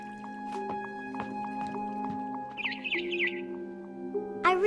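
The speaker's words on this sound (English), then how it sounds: "It was a barn swallow going back to her nest." A barn swallow in the game What Remains of Edith Finch gives a quick run of bright chirps over a quiet musical drone and soft dripping clicks, with a sharp sound at the end.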